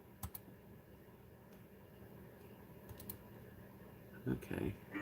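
Soft, irregular clicks of typing on a computer keyboard, fairly faint and sparse over a steady background hum, with a brief louder flurry of keystrokes near the end.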